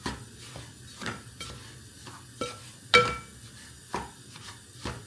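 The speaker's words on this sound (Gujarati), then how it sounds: "તો આપણે ફટાફટ મિક્સ કર્યા કરીએ" A wooden spoon stirs melting ghee in a pot, giving quiet, spaced scrapes and knocks about once a second over a faint, low sizzle.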